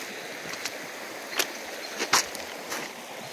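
Steady rushing water of the Bear River flowing at 130 CFS fills the scene, a broad continuous wash with a few brief splashy bursts rising out of it.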